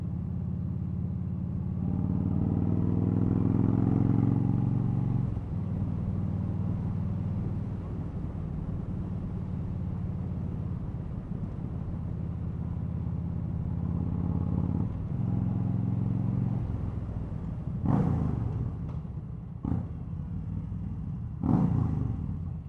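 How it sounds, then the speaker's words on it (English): A car engine revs while driving through an underpass, a loud low droning rumble that swells and eases in long stretches, followed by a few sharp bursts near the end. "Tough to go under an underpass without revving the engine."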